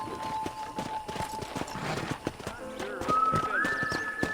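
Horse hooves clip-clop at a steady walking rhythm in the Western game Red Dead Redemption, close and fairly quiet, with a whinny-like tone and brief game dialogue alongside.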